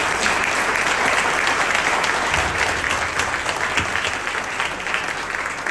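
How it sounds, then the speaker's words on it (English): Sustained, dense applause from a gala dinner crowd at the 2024 Richmond County Democratic Party event, steady and loud throughout with no break. "Another round of applause to my good friend John."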